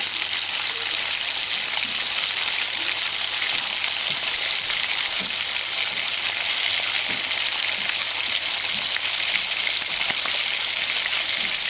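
Whole-lentil vadas deep-frying three or four at a time in hot oil give off a steady, dense sizzle with a soft crackle, continuous and fairly loud from start to finish with no voices.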